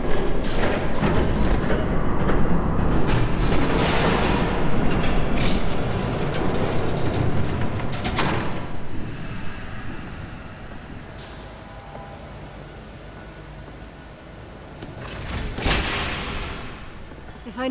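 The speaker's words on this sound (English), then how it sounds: "There's a train coming." A train approaching in Batman: The Telltale Series, heavy rumbling and clattering with thuds and booming impacts, loud and continuous, swelling again near the end; voices speak over it.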